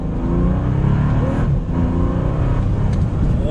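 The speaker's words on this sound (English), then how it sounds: "So we're gonna go ahead and give it one more acceleration for today." A 2020 Bentley Flying Spur accelerates hard, its engine note loud and sustained with a rising, harmonic-rich roar running steadily throughout, close and without any talk.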